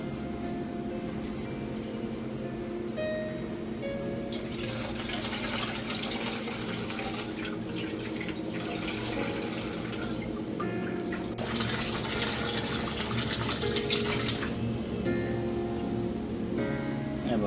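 Freshly caught tiny creek shrimp (kolim) are washed in water at home, with continuous splashing, swishing and light clinking while the water is stirred and changed, and occasional faint voices in the background.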